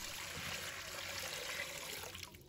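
Clean water is poured into a cooking pot to boil eggs, producing a steady, fairly soft rushing splash that runs for a couple of seconds before tapering off.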